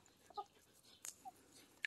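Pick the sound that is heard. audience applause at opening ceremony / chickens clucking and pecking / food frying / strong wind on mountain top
chickens clucking and pecking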